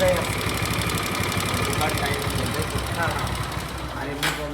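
A four-stroke 4V motorcycle engine with a fault runs steadily up close with a fast, even knocking tick, ending in a brief hiss near the end.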